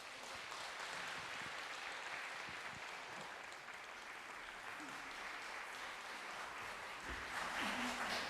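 Audience applause for the Busan Conductors Choir, a sustained, fairly distant patter of clapping that runs steadily throughout with a slight swell near the end.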